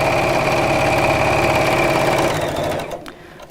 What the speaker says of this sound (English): I'm just sewing up and down in straight lines